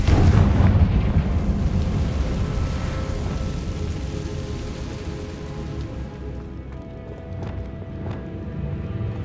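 Confringo blasting curse spell in the Hogwarts Legacy video game, a loud, heavy rumbling blast that roars and slowly fades over several seconds, with no talking.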